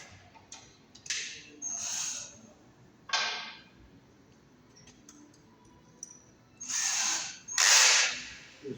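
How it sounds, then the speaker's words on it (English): A power drill bores a hole into the corner of a wall, sounding in short, loud whirring bursts separated by pauses, with the longest and loudest runs near the end. "So I'll drill a hole in the corner there."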